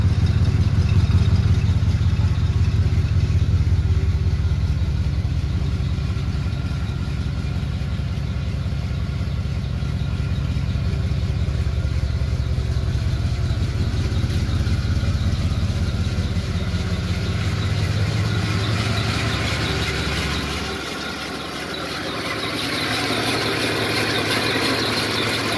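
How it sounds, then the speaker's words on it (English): A 1956 Chrysler Windsor engine idles steadily after a cold start, a continuous low rumble with a light mechanical clatter, close and fairly loud throughout, dipping briefly near the end. "Good running engine."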